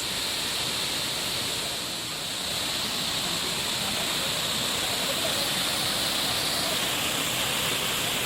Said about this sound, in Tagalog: Here we go, Nakita Falls.